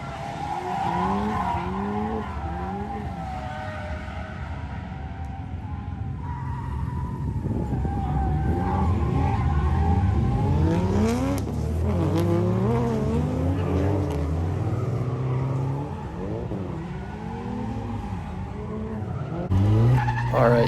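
A drift car skidding at a night drift event, tires squealing in long wavering bursts while the engine revs rise and fall; loud and sustained, with brief talk near the end.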